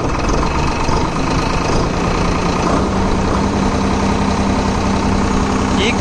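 A Swaraj 969 FE CRDI 4WD tractor engine runs loud and steady close by, with a low diesel throb that holds throughout, as though revved and held at raised rpm.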